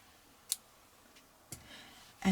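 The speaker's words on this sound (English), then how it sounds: "Now cut the yarn" Scissors snip through yarn at a crochet project, giving a few sharp, faint clicks spaced apart in a quiet room.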